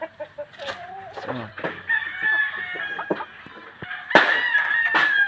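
Chickens cluck and a rooster crows loudly nearby in a rural yard, with bursts of crowing rising over scattered clucks and faint background voices.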